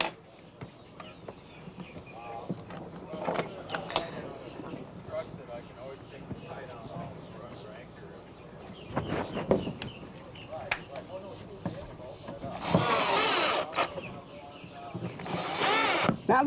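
A power tool whirs in short bursts while a GPS antenna clamshell mount is fitted to a boat, with clicks and handling knocks between, and a loud longer stretch of drilling near the end; a person talks throughout.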